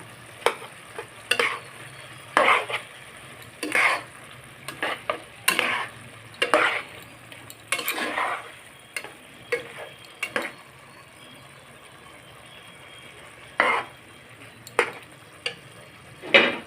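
Fish head being stirred and broken up into ash gourd ghonto in a pan, a series of irregular scraping and clattering spoon strokes over a faint sizzle, close and alone without talk.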